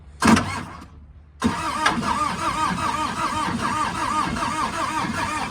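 A Peugeot XUD9 diesel engine in a Bobcat 751 skid steer cranks with a short burst, pauses, then churns on in a steady rhythmic starter whir without catching.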